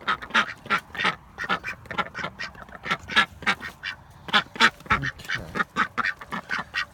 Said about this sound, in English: Okay, ducks, time to go in.